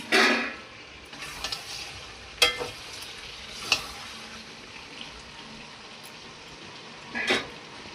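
Fried potatoes added to simmering mutton curry in a pan, a loud initial sizzle splash followed by steady low frying hiss and occasional sharp utensil clinks, close and alone.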